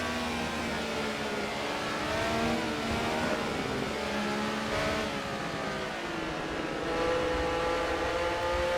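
Honda race cars revving to 11,000 RPM in Assetto Corsa at VIR, a continuous high-pitched engine scream rising and falling through shifts, loud and close with other cars whining nearby.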